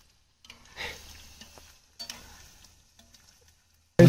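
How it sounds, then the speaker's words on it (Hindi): Paneer fries in a pan at a forest campsite near Binsar, giving quiet sizzling with scattered scraping and stirring clatter, then a sudden loud knock at the very end. "तो पनीर वगैरह अपना फ्राई हो चुके हैं"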